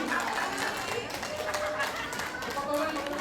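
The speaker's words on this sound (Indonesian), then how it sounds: "tepuk tangan dia lebih meriah dan semangat ya" An audience claps lively and spiritedly at a dance studio evaluation event, giving a dense, uneven burst of many hands close by. Crowd chatter and voices mix underneath throughout.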